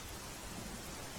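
Heavy rain falls in Jalalpor taluka of Navsari district, Gujarat, a steady, even roar of downpour heard from a distance and somewhat faint, with no voices.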